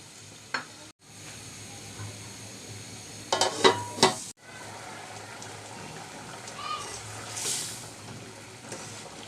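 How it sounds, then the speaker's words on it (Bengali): Red lentil dal cooked with dried fish bubbles in a pot, a steady soft simmer with a few louder spoon stirs and scrapes partway through. "এইতো আমার ডাল মুসুর ডালটা ফুটে গেল"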